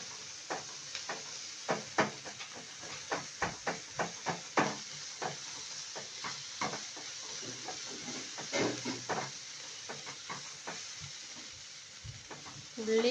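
Onion, tomato and green chili sautéing in a pan, with soft sizzling under a run of rhythmic spoon-against-pan stirring taps, close and moderately quiet.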